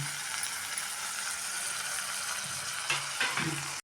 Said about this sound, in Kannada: ಎಲೆಕೋಸು ಹಾಕ್ಬಿಟ್ಟು ನಾನು ಸ್ವಲ್ಪ ಇದನ್ನು ಮಸಾಲೆ ಎಲ್ಲ ಹಾಕಿ ತಿರುಗೋಣ